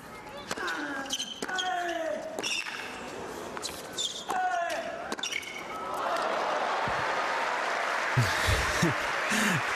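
Spectators applaud at the 2016 Mubadala exhibition tennis match in Abu Dhabi between Rafael Nadal and David Ferrer. Ball bounces and voices come first, then steady broad crowd clapping fills the last few seconds.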